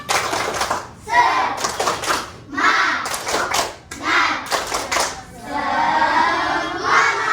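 Children in a classroom clap a rhythmic group pattern with a teacher, with sharp bursts of hand claps between chanted voices. The claps repeat close and loud over several seconds.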